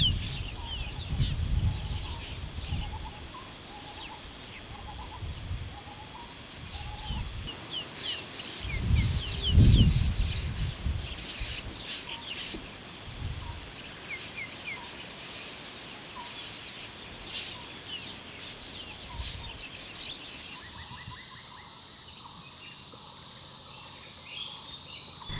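Birds call repeatedly in Kaziranga National Park's forest in Assam, with fowl-like clucks and chirps over insect buzz and low rumbling, moderately near and layered across the scene.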